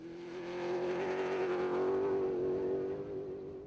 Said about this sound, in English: Into the final loop of the race, and Taylor Birkin and Forsen Howie had a tight grip on a Castrol Toyota 1-2